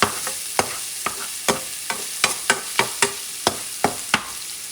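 Chopped garlic sizzles steadily in a pan while a utensil stirs and taps it about a dozen times in an even rhythm, close and fairly loud, with no talking.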